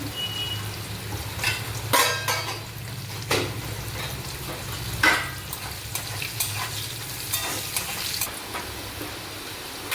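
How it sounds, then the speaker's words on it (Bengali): Cauliflower pieces fry in a pan with a little salt and turmeric, a continuous close sizzle broken by several sharp scrapes and knocks of stirring. "ফুলকপি ভাজা হয়ে গেছে, উঠে রাখছি।"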